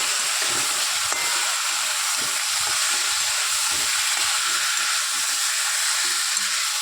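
Coriander and turmeric powder fry and get stirred in a pan for a Bengali chicken curry, giving a steady broadband sizzle with soft irregular scraping strokes of the spoon underneath, close and continuous.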